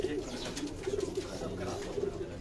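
Pigeons coo softly and steadily in a noisy space, with faint murmuring voices in the background.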